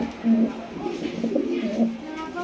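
Blue bar exhibition pigeons coo close by in a few soft, low repeated calls, with faint background chatter.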